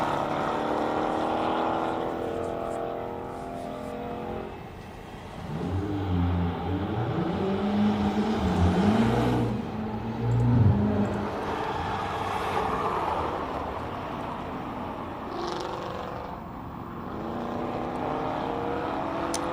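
Ford Mustang race cars at the Simola hillclimb, a continuous engine roar that swells and fades as cars pass at a distance, with a deep rumble in the middle of the run.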